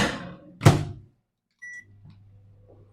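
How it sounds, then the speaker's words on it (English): A microwave oven holding 100 grams of shredded mozzarella cheese has its door shut with a thunk, then gives a short beep and settles into a low, steady hum. "We're going to go straight into the microwave"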